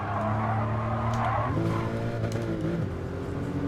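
Racing car engine in Gran Turismo Sport revving hard, loud and close, with a gear change around the middle followed by rising pitch sweeps as it accelerates again.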